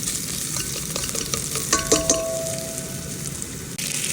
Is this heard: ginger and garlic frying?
yes